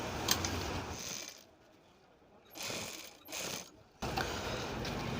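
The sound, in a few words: foot-pedal sewing machine stitching a sleeve strip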